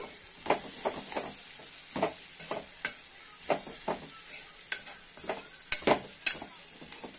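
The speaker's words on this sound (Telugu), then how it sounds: "సిమ్లో పెట్టుకొని వేయించుకుంటున్నా." Broad bean curry with pounded garlic frying gently in a pan over a low flame, a soft steady sizzle broken by repeated scraping stirs of a spoon, close and fairly quiet, with no talking.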